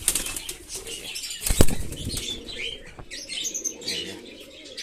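A loud burst of pigeon wings flapping near the microphone, amid a busy backdrop of chirps and coos from many birds.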